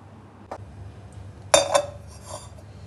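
Metal pots and utensils clink and clatter close by as a vessel is pulled out in a home kitchen, one light knock followed by a louder cluster of ringing clanks, then quiet.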